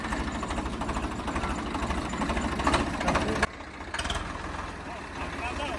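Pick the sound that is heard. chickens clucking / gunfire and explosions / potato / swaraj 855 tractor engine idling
swaraj 855 tractor engine idling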